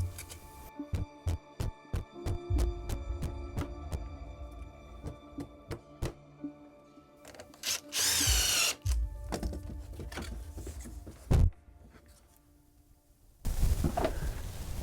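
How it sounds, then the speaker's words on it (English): An axe sharpens wooden poles into points, giving a quick run of crisp, regular chopping knocks. Rougher scraping and rustling of wood follow, with no voices. "with the axe, I'm going to sharpen some nice poles to skewer these on"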